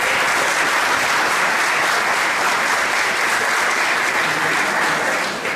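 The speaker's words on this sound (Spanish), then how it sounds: "Un aplauso al Señor" A congregation bursts into loud, sustained applause during a Spanish-language church gathering, dense continuous clapping from many people that holds steady before easing slightly at the end.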